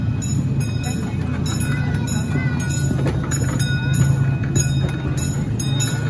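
A small zoo ride train rattles along through a tunnel with steady clattering wheels and rumble while a guide talks over a loudspeaker throughout.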